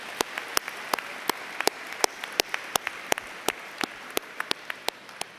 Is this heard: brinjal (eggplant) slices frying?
no